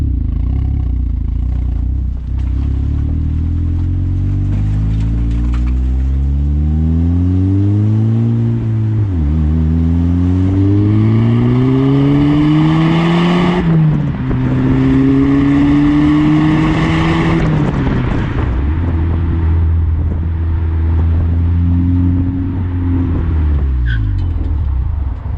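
A Mark 6 Volkswagen Golf R engine pulls a 16-foot enclosed trailer, loud and close, revving up through several gears with rising drone and brief dips at each shift, sustained throughout.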